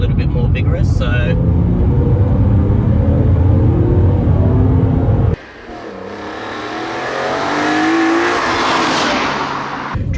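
A BMW Z4 M (E86) in sport mode drives with a loud, close engine rumble that drops abruptly midway, then climbs in a rising rev under acceleration.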